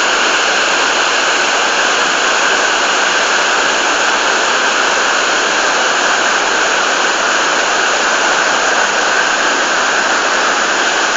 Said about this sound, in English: give you the full effect of the waterfall